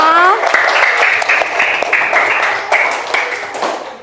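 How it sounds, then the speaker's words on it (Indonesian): A classroom of pupils claps together in a dense, steady round of applause lasting several seconds, with a voice calling out over the start. "Oke, tepuk tangan untuk kita semua."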